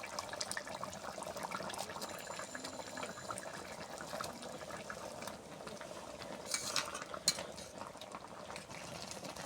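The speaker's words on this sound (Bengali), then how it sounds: "জল ফুটে গেছে, উপর দিয়ে মিট মশলা দিয়ে দিচ্ছি।" A pot of egg omelette curry simmers at a gentle boil, with soft, steady bubbling and faint liquid noise heard at close range, with no voices.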